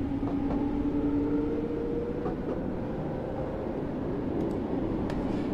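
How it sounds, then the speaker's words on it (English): A Class 484 Island Line electric train running in a train simulator game, a loud continuous rumble with a steady low hum and faint rising whine, heard alone throughout. "Hopefully you can hear the train all right."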